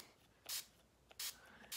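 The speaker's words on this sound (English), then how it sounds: "I spray my beauty blender with the spray" Three short hissing spritzes of setting spray onto a makeup sponge, close and crisp, separated by brief pauses in a quiet room.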